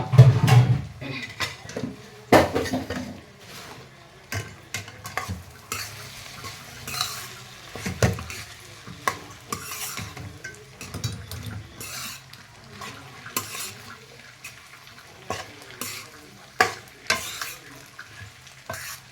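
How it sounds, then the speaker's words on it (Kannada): Vegetable palya stirred in a pan over a low gas flame: repeated scraping strokes and sharp clinks of a spoon against metal, irregular and close, over a faint quiet sizzle. "ಸಣ್ಣಗ ಗ್ಯಾಸ್ ಇಟ್ಟ ಸಣ್ಣ ಫ್ಲೇಮ್ ಒಳಗೆ ಇದನ್ನ ನಾವು ಮಿಕ್ಸ್ ಮಾಡ್ಕೋಬೇಕಾಗ್ತೈತಿ"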